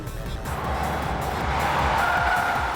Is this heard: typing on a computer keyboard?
no